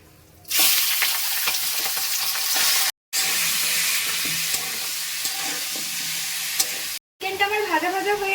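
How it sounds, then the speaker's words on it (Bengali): Loud, crackling sizzle of chicken pieces frying in hot oil, starting abruptly and continuing steadily, with brief cuts and a few clinks from stirring. "আমি কড়াইতে তেল গরম করে নিয়েছি এতে আমি চিকেনের পিসগুলোকে একটু ভেজে নেবো"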